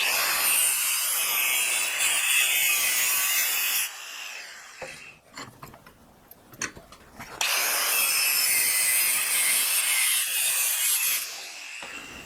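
A saw cuts slots into a length of pipe with loud, continuous rasping strokes close by. The cutting pauses for a few seconds in the middle and leaves quieter tapping and handling noises.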